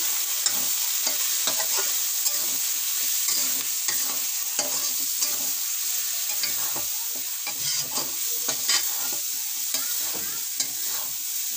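Spices, red chilli and vegetables for aloo paneer matar sabji sizzle in a pan while being gently stirred, a loud, steady frying hiss broken by frequent scraping clicks of the spoon, with no voices.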